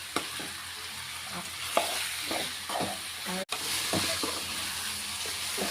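Chicken frying in oil with salt added, a steady sizzle filling the pan while a spoon stirs through it in repeated scraping strokes, one sharp knock partway through.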